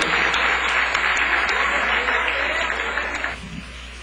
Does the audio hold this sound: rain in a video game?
no